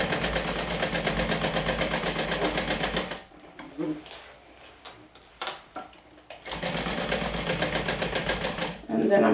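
Sewing machine stitching a seam on a garment, a close rapid mechanical chatter that runs for three seconds, pauses while a person talks, then resumes steadily.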